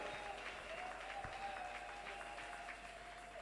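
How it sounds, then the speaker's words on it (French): A church congregation applauding and cheering for God, sustained dense clapping from a crowd with a faint vocal tone running beneath it throughout. "On acclame encore très fort pour notre Dieu"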